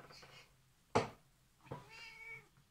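A ten-year-old pet cat meows indoors, one sharp loud cry followed a moment later by a second, softer drawn-out meow, with quiet room tone between.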